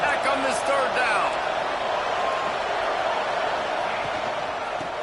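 Loud, continuous roar of a stadium crowd at a Texas Tech college football game on third down, with a commentator's voice over the din.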